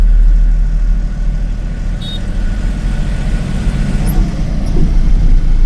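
Heavy, congested road traffic on a blocked road diverted through a narrow street in Tamil Nadu: a loud, constant drone of idling and creeping engines close by, with no voices.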